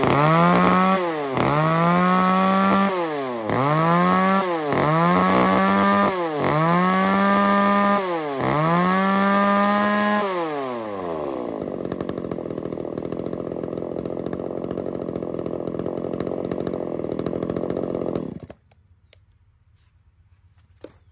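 A 34cc chainsaw cuts through wood in five strong, rhythmic strokes, the engine pitch dipping under load and rising between cuts, then idles at a steady high whine for several seconds before shutting off abruptly; loud and close, no talking.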